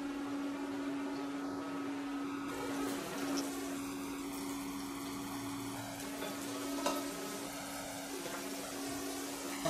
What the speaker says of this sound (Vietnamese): Cho mình chút dầu mình chiên cua.